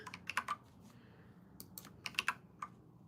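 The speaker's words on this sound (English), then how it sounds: "This keyboard isn't working." Someone types on a computer keyboard, soft, irregular clusters of key clicks in short bursts with pauses between, close and quiet over a faint background hum.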